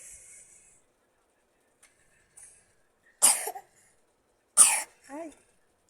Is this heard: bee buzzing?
no